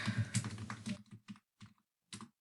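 Keys clatter on a computer keyboard while a script is entered: a quick run of dense taps, then a few sparse, separate keystrokes trailing off, close and fairly quiet.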